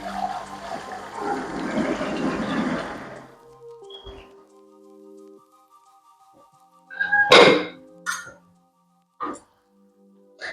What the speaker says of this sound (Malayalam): അപ്പോൾ നമുക്ക് ഈ ചൂടായ എണ്ണയിലേക്ക് ഇതിങ്ങനെ ഒഴിച്ചു കൊടുക്കാം